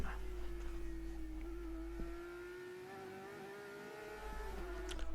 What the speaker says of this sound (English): Watching these Porsches go round